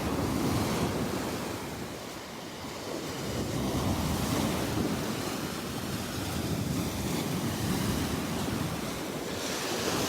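Surf washing steadily onto the Gulf beach at Delnor-Wiggins on a morning walk, a continuous loud wash of breaking waves with wind rumbling across the microphone throughout, no voices.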